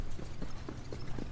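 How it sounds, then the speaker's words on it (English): Hoofbeats of harness racing horses passing on a soft, wet track, a steady run of muffled clip-clop thuds over constant low rumble and background noise. "Right now, the horses going by, you can hear their hoofbeats"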